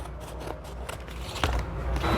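Scissors snip through vinyl sheet, cutting out a design shape in a few quick close cuts with faint handling rustle between them.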